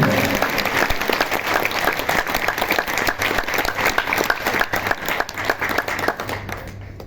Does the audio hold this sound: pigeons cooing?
no